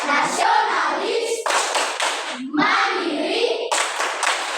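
A class of children chants the Tepuk PPK routine, loud voices punctuated by bursts of rhythmic unison handclapping, close and continuous.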